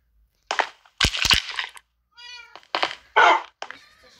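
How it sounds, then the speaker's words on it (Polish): Cat in the Minecraft video game meowing several times in short, separate bursts, clear and close, with a brief stretch of speech in between. "twój kot się nazywa Fiona. Teraz muszę go nakarmić"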